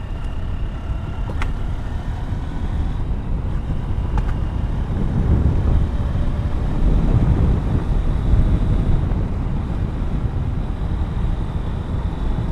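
Riding a Honda NX200 motorcycle, with a steady broadband roar of wind rushing past the helmet microphone and the engine buried underneath, continuous and loud throughout with no talk.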